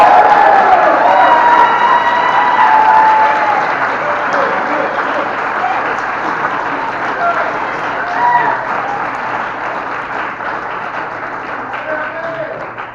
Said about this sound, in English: If you want to clap, you can clap now.